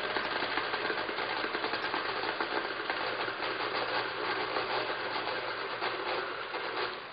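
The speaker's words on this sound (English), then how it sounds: "we'll slowly stir these together on a low speed" Stand mixer on low speed stirring salt and sugar for bread dough: a steady, continuous motor whir with a faint rhythmic rattle, running evenly throughout with no voices.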